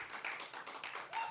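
An audience claps and cheers to vote for option A at a live storytelling event, a dense broadband patter of applause that holds steady throughout with brief whistles poking through.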